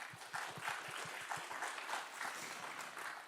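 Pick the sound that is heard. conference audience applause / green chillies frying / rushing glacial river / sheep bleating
conference audience applause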